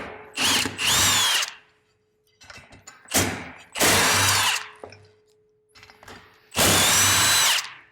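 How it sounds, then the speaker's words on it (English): An impact wrench works a 5/8 bolt on a 2024 Polaris RZR XP 1000 clutch, firing in four loud, close bursts of rattling hammering separated by short pauses. "This is gonna be a 5/8. I'm gonna use an impact."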